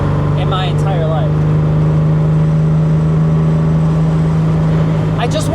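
Buick Grand National engine hums steadily up close as gears are shifted, a sustained even drone with faint voices and brief chirps at the start and end.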